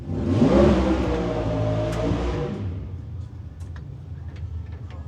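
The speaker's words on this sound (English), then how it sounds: "You can warm it up." A Chevy Nova drag car on 275 radials revs hard and loud for about three seconds, its engine note rising, then drops back to a low, steady idle rumble with faint ticking.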